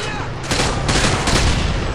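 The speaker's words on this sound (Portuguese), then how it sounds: "Nossa, eu joguei uma granada." A grenade goes off in Call of Duty Modern Warfare 2 on PC, a loud, dense rumbling blast mixed with continuous gunfire that fills the whole two seconds.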